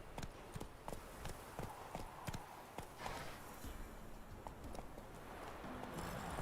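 Geralt's horse Roach galloping in The Witcher 3, rapid rhythmic hoofbeats clip-clopping steadily over a broad outdoor wash of wind and ambience.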